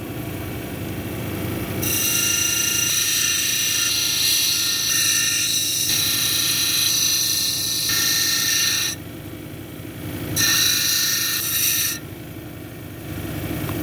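Jasper cabochon pressed against a spinning 80 grit wheel gives a loud, continuous rasping grind over a steady motor whine, cutting in and out as the stone is lifted and set back down.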